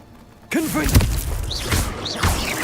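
Confringo blasting spell effects in Hogwarts Legacy: a sudden onset into loud thuds and crashes, with swooping magical whooshes and rising tones layered over the impacts.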